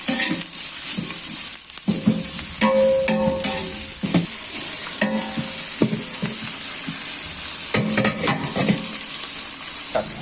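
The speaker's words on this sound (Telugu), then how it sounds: "ఇప్పుడు ఆనియన్స్ వేస్తున్నాను. ఇప్పుడు ఒకసారి అంతా బాగా కలుపుకోవాలి." Onions sizzle and fry in a hot pan while being stirred, with steady close frying hiss and intermittent scraping and clinking of a spoon against the pan, no talking.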